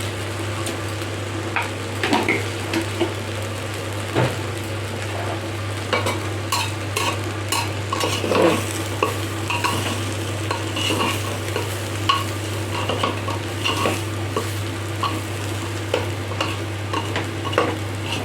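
Chicken pulao ingredients, seasoned with salt and a spoon of sugar, are stir-fried in a pan: a constant close sizzle broken by repeated scraping and stirring clatters, with no voices.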